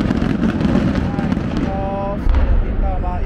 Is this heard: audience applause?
no